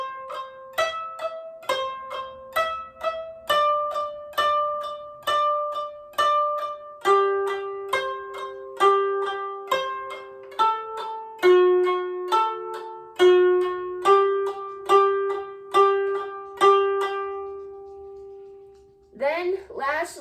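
A koto plays a melodic line from Hana Ikada, a steady run of plucked notes with ringing decays and a gradual descent in pitch, heard alone and fairly clear until a brief noise at the very end.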